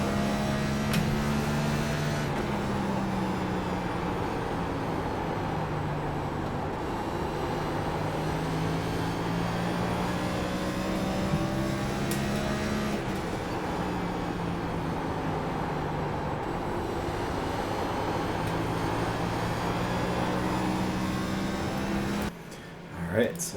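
A NextGen stock car in the iRacing simulator runs a night lap at Richmond, its engine a steady loud drone with pitch rising and falling through the corners and gear changes, continuous for the whole lap before cutting out near the end.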